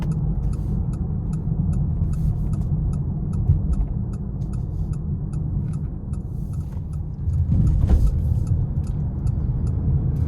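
A 2026 Nissan Rogue plug-in hybrid cruising in eco mode, heard from the cabin as a steady low road and engine rumble with faint regular ticking above it and a brief louder swell near the end.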